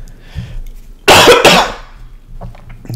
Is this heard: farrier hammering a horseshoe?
no